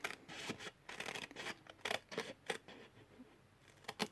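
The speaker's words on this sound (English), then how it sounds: "I'm going to cut along that score line" Scissors snipping designer series paper along a score line while making a simple gift box, a run of close, crisp cuts and rustles at an irregular pace, with no talking.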